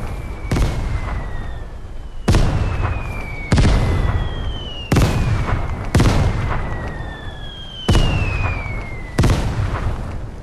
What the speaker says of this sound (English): Two mortars.